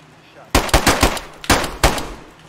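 Rapid bursts of automatic gunfire in a multiplayer shooter video game, a loud volley of close shots followed by a second short burst after a brief pause.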